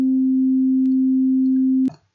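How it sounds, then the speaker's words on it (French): A synthesized pure tone on middle C sounds as one constant, smooth hum, loud and unvarying for nearly two seconds, then stops sharply with a small click into quiet. "Donc là, vous avez un Do,"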